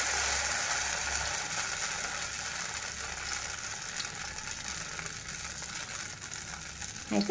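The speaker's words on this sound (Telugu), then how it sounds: "కొంచెం జాగ్రత్తగా మీద పడకుండా సిమ్లోనే పెట్టుకొని వేయించుకోవాలా" Snacks fry in oil on a low flame, giving a soft, steady sizzle and crackle that runs evenly throughout, faint and close, with a brief clatter near the end.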